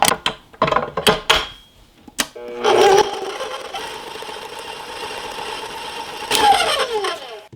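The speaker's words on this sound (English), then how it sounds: "I'm using my paddle with the scraper, and now we're going to mix it up." Stand mixer with a paddle scraper beating keto sourdough dough: several clunks as it is set up, then a steady motor whir that runs on and swells briefly near the end.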